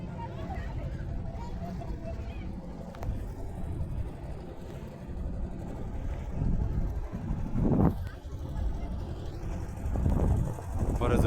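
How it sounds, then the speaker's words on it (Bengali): Engine-driven boat moving slowly along the Jamuna River, a low continuous motor drone with wind buffeting the microphone; a voice speaks over it. "আমাদের ইঞ্জিনবাহিত নৌকা"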